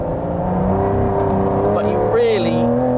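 A V12 engine in a car pulling hard, a loud, steady drone with pitch shifts as it revs and shifts, heard alongside someone talking.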